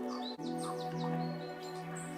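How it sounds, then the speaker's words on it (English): Atmospheric bird chirps layered into a music track, quick tweeting calls scattered over sustained synth-like tones and a steady low drone, clear and fairly prominent throughout. "I really like all the atmospheric stuff with the birds."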